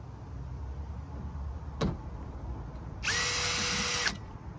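Phillips screwdriver working on the rear hatch lock of a 2012 Kia Sedona: a sharp click near the two-second mark, then a loud buzzing whir lasting about a second, close up and without speech.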